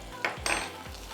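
Ginger frying in oil in a pan for daal tadka, with a low steady sizzle and two brief scraping or clinking utensil sounds up close, no talking.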